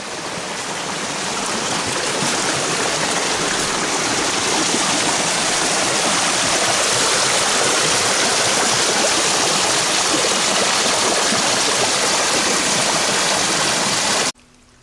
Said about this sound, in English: here's the creek after it leaves the waterfall.